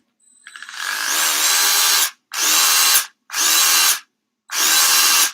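A cordless power drill with its clutch set to a chosen torque runs in four loud, near whirring bursts. The first run winds up and lasts longest, and the next three are shorter and separated by brief silences.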